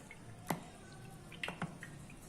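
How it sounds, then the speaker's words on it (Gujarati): Water drips from curd hung in cloth to drain for shrikhand, a few sparse, soft drops falling at irregular intervals against a quiet background. "તમે જોઈ શકો છો, પાણી નીકળવા માંડ્યું છે."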